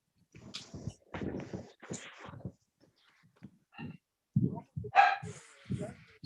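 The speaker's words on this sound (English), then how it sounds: "Stupid dog." A dog barks a few times in the background of a podcast recording, short loud yaps mixed with people talking nearby.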